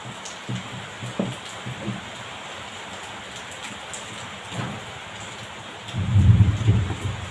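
Steady rain falls outside as a soft, continuous hiss. A low rumble of thunder swells near the end.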